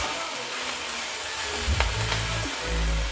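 Onions, green chillies and curry leaves sauté in a pan, with a steady dense sizzle and a few soft stirring knocks, close, with no talk.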